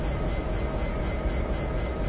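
A Class 150/2 diesel train in Train Simulator 2015 at Manchester Oxford Road, a loud, steady rumbling rail drone with a constant hum, no voices.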